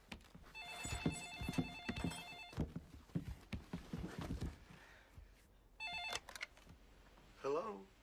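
A telephone bell rings in a long, steady burst and then a shorter one, with voices and scattered noises in the gaps between the rings.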